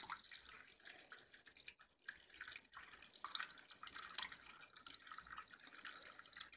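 Vinegar poured over rusty vintage Yale locks in a container, a steady trickling and dripping of liquid with small splashes, fairly quiet and close, with no talking.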